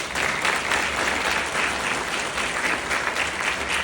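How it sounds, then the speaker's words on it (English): An audience at a GED graduation ceremony in Williamsburg claps steadily, a dense, even wash of many hands that sounds close and continuous throughout, with no talking over it. "Thanks for clapping for me"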